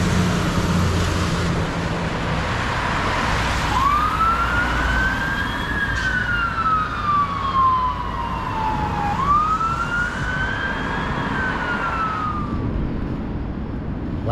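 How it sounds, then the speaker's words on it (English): A fire engine siren wails in rising and falling sweeps at a roadside campsite, fairly close and loud over steady traffic rumble, with no talking. "Fire engine."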